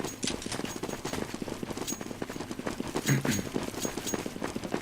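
Rapid pistol gunfire from P250s and Deagles in a Counter-Strike round on de_nuke, dense overlapping shots cracking in quick bursts throughout, loud and busy, no voices.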